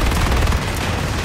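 Dense, loud automatic gunfire in the PlanetSide 2 video game, a rapid barrage of shots with booming low-end impacts filling the short burst, no talk over it.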